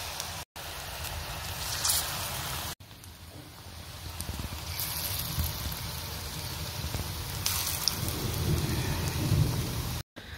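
Steady rain pours down outdoors on a stormy evening, a dense, continuous hiss with a low rumble beneath, broken by a couple of brief dropouts.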